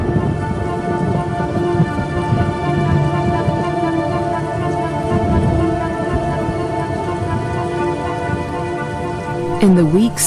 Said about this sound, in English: the rains continue to fall in a ceaseless torrent